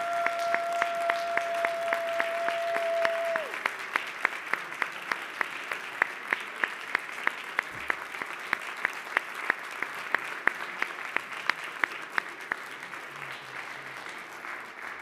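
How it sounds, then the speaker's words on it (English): Sustained audience applause fills a city council chamber, dense and even clapping that carries on for the full stretch, with a faint tone at the start fading under it. "Can we get a big rousing round of applause for Lillian, Camille, and James, and everything they have done for this city?"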